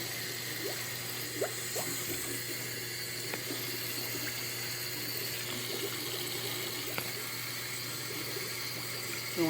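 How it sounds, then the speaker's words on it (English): Water bubbles and trickles inside a Navien boiler as air is bled from its lines, a steady low pump hum beneath faint irregular gurgles and clicks, close by with no talk. "It's bubbling."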